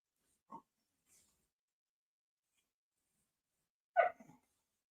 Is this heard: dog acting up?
yes